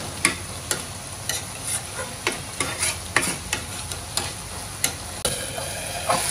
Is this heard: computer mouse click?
no